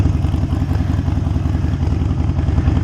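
Harley-Davidson Iron 883 Sportster motorcycle out on a ride, its engine giving a steady, loud low rumble with a pulsing beat that holds without letup for the whole stretch.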